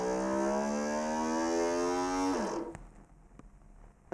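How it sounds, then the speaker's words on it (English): A small electric motor on a vintage 1980 E&L MMD-2 single board computer whirs up in rising pitch to full speed, then cuts off abruptly, leaving faint background hiss. "I can switch the motor on"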